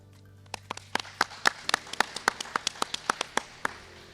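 A few people clap at a graduation ceremony in a sparse, uneven burst of about a dozen sharp claps that trail off after a few seconds.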